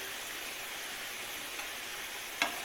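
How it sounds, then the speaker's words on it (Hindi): Chicken fries in oil with a continuous, even sizzling hiss, close and moderately quiet, and a single small click comes near the end. "हमने ऑयल में चिकन डाली है और चिकन को भूनना है हमने"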